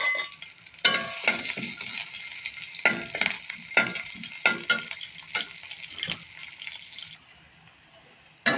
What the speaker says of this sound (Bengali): এবারে আমি পরিমাণ মতো রসুন আর পেঁয়াজ দিয়ে দিচ্ছি